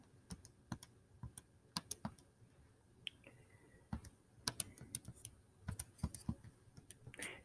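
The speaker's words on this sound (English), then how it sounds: "So give me a second to type all that." Typing on a computer keyboard while entering an algebra problem, irregular bursts of crisp close keystroke clicks with short pauses between, no voice.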